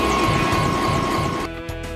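Tour helicopter in flight over Lake Mead, heard from inside as a loud, continuous rotor and turbine drone with a steady whine, dropping slightly in level near the end.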